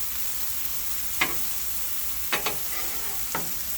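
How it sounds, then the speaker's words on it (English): Mushrooms and asparagus cook on a Blackstone flat-top griddle with a soft, steady sizzle, punctuated by a few brief metallic scrapes and taps of a spatula pushing them aside. "We're gonna, like I said, slide these over and let those kind of do their thing over here."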